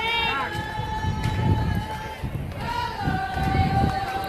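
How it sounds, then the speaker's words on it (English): A crowd cheers for a softball team at a game between DC Sharks and ATL Drop Dead, a distant roar under steady close commentary. "We have some cheering heading over from Drop Dead, getting their mojo up"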